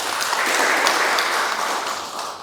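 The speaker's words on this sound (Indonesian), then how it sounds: "Kita berikan tepuk tangan." Audience applause at an evening discussion event, a dense steady burst of many hands clapping that holds through and fades slightly at the end, with no talk.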